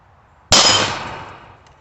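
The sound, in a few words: shot hitting a 3/8 inch hot rolled steel plate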